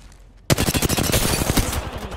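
Rapid automatic fire from an R-301 rifle in a video game, a loud close burst of quick repeated shots that starts abruptly and runs for about a second and a half.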